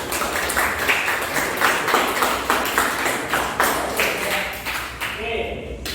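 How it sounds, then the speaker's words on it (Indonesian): Several people in a classroom clap together in steady, rhythmic bursts, a loud applause that carries on for several seconds before trailing off. "silakan tepuk tangannya."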